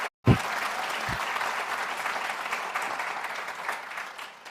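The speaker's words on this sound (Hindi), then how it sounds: "मेरा मन है कि एक बार और जोरदार तालियां हों" Applause from the audience at a Hindi poetry gathering (kavi sammelan), a steady wash of many hands clapping after a brief spoken line at the start.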